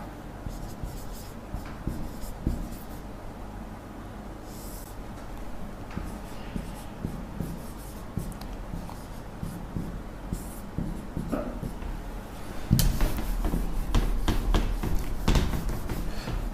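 A pen scratches quickly and continuously across paper during a Sanskrit class, with close, busy strokes that grow louder and denser toward the end.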